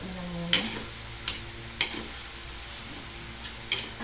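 Banana blossom frying in a pan seasoned with plenty of black pepper, stirred with a utensil that clacks sharply against the pan five or six times over a steady low sizzle.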